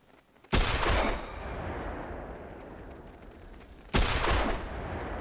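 Two loud rifle shots ring out while hunting snow geese in The Hunter Classic, each a sharp crack followed by a long rolling echo, spaced about three seconds apart.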